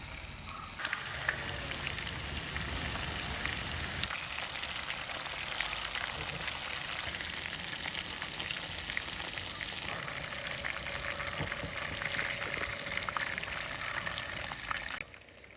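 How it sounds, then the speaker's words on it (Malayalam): Chicken pieces are laid one by one into hot oil for shallow frying, producing a loud, continuous crackling sizzle that fills the clip with small pops throughout. "ഇനി നമുക്ക് ഓരോ ചിക്കൻ ഇട്ടിട്ട് ഒന്ന് ഷാലോ ഫ്രൈ ചെയ്തെടുക്കാം"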